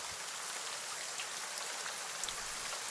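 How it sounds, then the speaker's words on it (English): Heavy rain falling outside, a dense, even hiss of countless drops pattering steadily without pause, fairly quiet and with no voices. "You hear the pitter patter of heavy rain outside"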